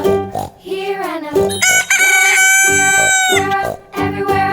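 A rooster crows loudly and close in a children's farm-animal song, the cock-a-doodle-doo cries repeating between sung phrases and music.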